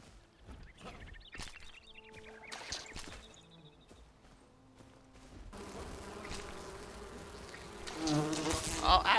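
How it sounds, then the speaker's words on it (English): A swarm of bees from a disturbed hive attacks in the video game Enshrouded, a buzzing drone over scattered game effects that grows denser and louder toward the end. "you disturb the hive, and then you get attacked by a swarm of bees"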